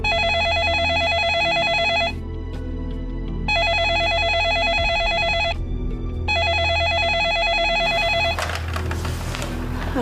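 A telephone rings loudly and close in three long electronic trilling bursts separated by short pauses, followed by a brief clatter as the ringing cuts off.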